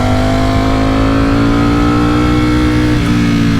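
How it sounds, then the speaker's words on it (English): A Ducati Streetfighter V4S motorcycle revs loud and close, its exhaust holding a steady, high, buzzing roar that climbs slightly in pitch for several seconds with no voices. "I love how the exhaust sounds."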